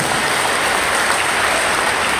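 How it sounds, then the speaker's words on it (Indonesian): An audience at a talk on palliative care, religion and health applauds in a steady, dense wash of clapping that stays even and unbroken throughout. "Tepuk tangan bagi kami."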